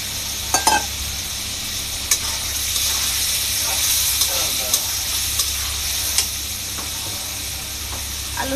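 Potatoes go into hot oil and a cooked-down spice paste for a chicken and potato curry, giving a loud, steady sizzle and hiss with a few sharp clatters from stirring.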